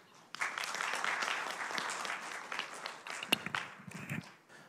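An audience at an automotive industry strategy forum breaks into dense applause to welcome the keynote speaker, starting abruptly, holding steady, then thinning into scattered claps and fading out near the end.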